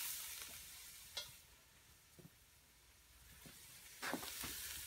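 A tortilla soup mixture with seasoning is stirred in a pot over an off-grid cooking setup, giving a faint, steady hiss with a few soft scraping knocks from the spoon.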